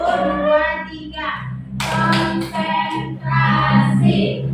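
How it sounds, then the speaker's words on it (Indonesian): Children in a classroom do a rhythmic concentration clap, short bursts of hand claps breaking into their chanting voices, fairly close and lively. "kita tepuk konsentrasi dulu"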